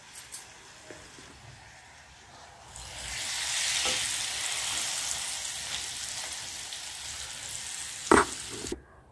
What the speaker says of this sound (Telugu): ఈ పచ్చడిలో మనం పోపు వేసుకుని సర్వ్ చేసుకుందాం.